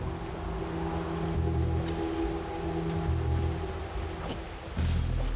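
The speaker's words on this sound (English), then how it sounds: "With rain pouring down on them" Heavy rain pours down in a steady, dense hiss of drops striking surfaces, loud and continuous throughout with a low rumble beneath, no voices present.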